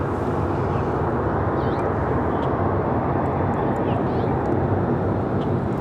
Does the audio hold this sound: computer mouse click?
no